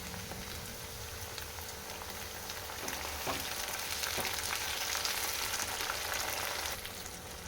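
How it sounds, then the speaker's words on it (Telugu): Onions and tomato pieces frying in a pan for a dhaba-style paneer gravy, a steady close sizzle with dense crackling that swells slightly in the middle and carries on without talk. "ఆనియన్ ఫ్రై అయిన తర్వాత టమాటా ముక్కలు వేసుకోవాలి"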